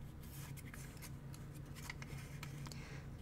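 Origami paper being unfolded and handled while folding a Christmas stocking, soft crinkles and crisp rustles in short bursts, close and quiet over a low steady hum.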